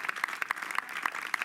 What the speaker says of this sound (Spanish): Denle un fuerte aplauso al Señor, precioso Jesús.